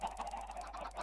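Chickens cluck softly in Minecraft while being fed on a farm, a short run of repeated low clucks with no talk over them.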